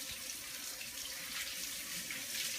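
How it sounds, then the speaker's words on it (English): Water running steadily from a tap into a sink as a Norwex cleaning cloth is rinsed, a soft constant hiss and splash, fairly quiet and uninterrupted. "and rinse it out."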